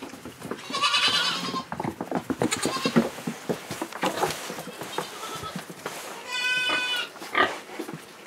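A young goat on a small farm bleats repeatedly as it is called over for milk feeding, several loud wavering cries close by with shuffling and other farm noises between them.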